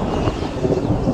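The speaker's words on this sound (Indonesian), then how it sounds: "hujan tiba-tiba saja turun." Sudden rain and thunder during a mango harvest, heard as a steady, loud, broadband wash of rainfall with low rumbling throughout, no voices.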